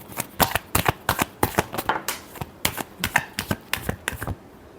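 Tarot cards being shuffled in a rapid series of about fifteen crisp riffling bursts with brief gaps between them, close and fairly loud, with no voice over the sound.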